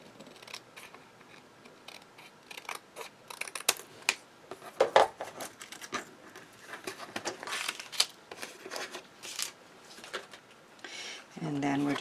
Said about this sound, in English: I find it easier just to follow the edging with a good bigger scissors like these ones from Tonic